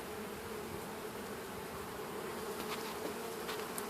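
Honeybees buzz in a dense, steady drone during a springtime inspection of a growing colony, heard close around the open hive, with a few louder passes of single bees near the end.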